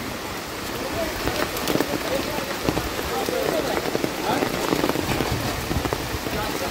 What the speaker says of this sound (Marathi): तुफान पाऊस आहे, अफाट तुफान.